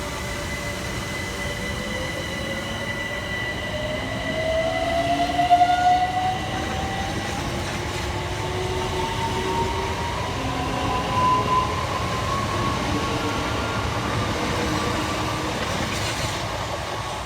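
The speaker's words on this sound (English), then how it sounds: "Departing next to the station is 376032 and 376014, with the 1438 Southeastern service from London Charing Cross through to Hayes." Southeastern trains 376032 and 376014 pull out of a station on the Hayes line, a sustained rumble of wheels and traction motors with rising whines and rail squeal, steady and fairly close.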